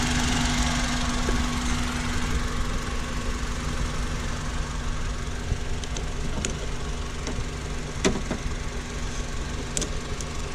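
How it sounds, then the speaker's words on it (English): A car engine with a freshly ported intake manifold idles steadily up close with a constant low hum and rattle, a few faint clicks and ticks over it. "Let's shut this thing down. Get the engine rev back up."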